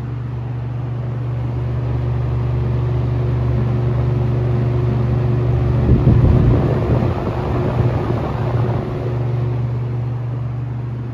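A restored 1977 Superlectric 2083 electric fan runs steadily with a deep, low-pitched hum and a soft whooshing airflow, getting a little louder and rougher in the middle before settling back.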